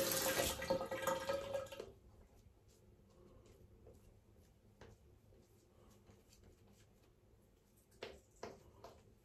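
Water is poured or dripped into shaving soap lather in a bowl, a loud splashing burst at first, then quiet with a few small drips and a brief wet swirl near the end.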